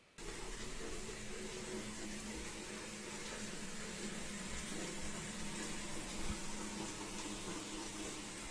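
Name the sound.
running water from a faucet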